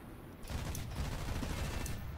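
Machine gun fire from an I-16 Type 28 fighter plane in War Thunder, a dense continuous rattle of rapid shots bursting in after a brief quiet start and holding loud for about two seconds.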